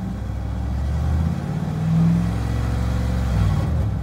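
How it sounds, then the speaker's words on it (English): A 1995 Dodge Ram 2500 engine idling up close, rising twice into short revs before settling back to a rumbling idle, with no talking. "obviously it's going to move a little bit as I rev the motor up"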